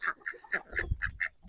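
Ducks quacking nearby, a quick run of about six loud, nasal honking calls in a regular rhythm with a low rumble underneath, no talk.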